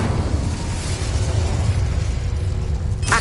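The Incendio fire spell in a Harry Potter video game bursts out as a loud, sustained roaring blast of flame that rumbles heavily for about three seconds, ending in a brighter crackling flare.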